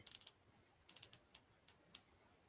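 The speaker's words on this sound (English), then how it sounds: "let's listen to the bezel action" A dive watch bezel is turned by hand, giving a quick burst of four crisp ratchet clicks and then single clicks spaced at irregular intervals. The clicks are close and sharp over a quiet background, with no talking.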